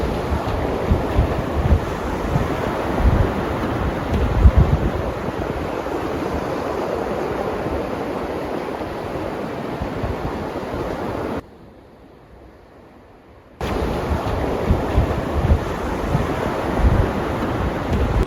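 Wind gusting across a huge open sandy beach with surf, a steady loud roaring rush buffeting the microphone, briefly dropping out near the end before resuming, with no talk.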